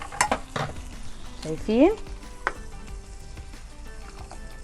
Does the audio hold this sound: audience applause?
no